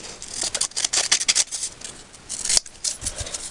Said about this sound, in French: vous allez venir découper ce carré là et ce carré là avec des ciseaux